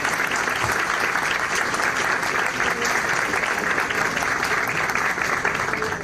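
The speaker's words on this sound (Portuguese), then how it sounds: "Eu peço uma salva de palmas a ela." Steady audience applause, many hands clapping at an even level throughout, filling the room.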